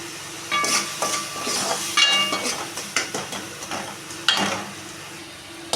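Onions and tomatoes fry in a pan for a broad bean poriyal, giving a steady sizzle broken by repeated scraping stirs and metallic knocks of a spoon against the pan. The sound is close and fairly loud, with no voices.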